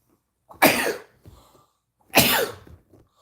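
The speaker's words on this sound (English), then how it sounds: "Those are some big sneezes, huh?" A small child gives two loud, sharp sneezes close by, each a forceful burst followed by a softer breathy trail, with a short pause between them.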